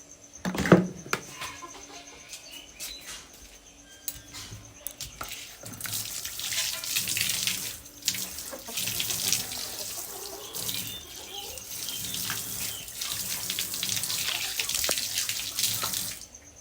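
Tap water runs steadily into a kitchen sink while dishes are washed. A soft rushing stream swells after a few quiet seconds and stays close and fairly loud, with small clinks and splashes underneath.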